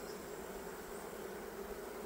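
A colony of bees humming inside an open hive during an inspection, a faint, steady, continuous drone with no pauses.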